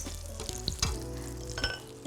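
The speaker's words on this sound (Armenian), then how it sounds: "Թավան արդեն տաք է, ես այստեղ ավելացրել եմ մի փոքր բուսայուղ, կավելացնեմ նաև մի փոքր կարագ" Butter and a little vegetable oil sizzle in a hot frying pan before cutlets go in. A steady close-up frying hiss carries soft crackles and a few faint utensil clinks, with no talking.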